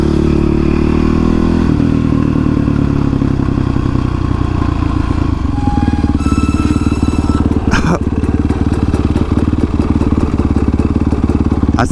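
Honda CRF 450X supermoto motorcycle engine running loud and steady throughout, its pitch shifting as it revs and rides, with clattering and a brief thump partway through, and faint voices in the background.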